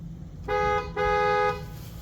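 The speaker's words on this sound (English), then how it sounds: "let's honk the horn so you guys can hear this bad boy" Two loud car horn honks from a 2024 Honda Accord Sport L Hybrid, a short blast followed by a longer one, close by over a faint low engine rumble.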